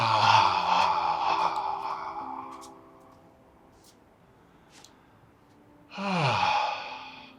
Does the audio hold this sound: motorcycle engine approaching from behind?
no